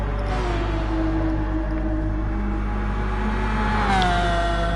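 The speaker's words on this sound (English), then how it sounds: "Super noise from that McLaren, isn't it?" A McLaren GT3 race car in a racing video game holds a steady, loud engine drone with sustained tonal whine, rising slightly in pitch near the end, heard alone without talk.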